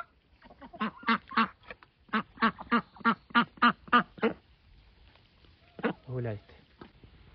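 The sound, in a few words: duck quacking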